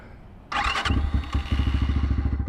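A Kayo K6-EFI fuel-injected four-stroke dirt bike turns over with a brief whir, fires up and settles into a steady, rhythmic thumping idle close by.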